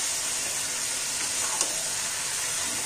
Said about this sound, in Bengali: সবজিটা দিয়ে 2 মিনিট এবার তেলের সঙ্গে মিশিয়ে নেব ভালো করে নেড়ে চেড়ে